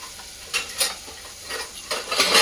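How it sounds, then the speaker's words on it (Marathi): Chopped onions sautéing in hot oil with turmeric until golden brown, the sizzle rising and falling as a spoon stirs and scrapes the pan in several quick bursts, close by and with no talking. "आणि असं छान गोल्डन ब्राऊन होईपर्यंत कांदा असा छानपैकी याला परतून घ्यायचा आहे"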